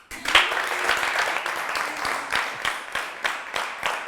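A small studio audience on a French-language talk show applauds, with distinct individual claps audible in a loose, uneven rhythm, moderate in level and close by, tapering slightly toward the end.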